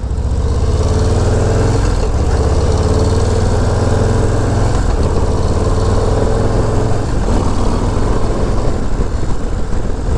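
A Harley-Davidson Low Rider ST motorcycle cruises along with a steady, loud, continuous engine rumble and exhaust drone throughout, with no talk.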